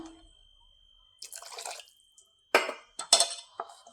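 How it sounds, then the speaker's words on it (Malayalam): A short pour of water splashes into dough, followed by a few wet, sharp knocks and squelches close by as it is kneaded, with quiet gaps between. "കുറച്ച് വെള്ളം കൂടി ചേർത്ത് കൊടുക്കാം"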